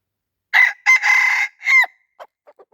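A wild junglefowl rooster crows in reply, one close, clear call in several rising and falling segments, followed by a few faint soft clucks and then quiet.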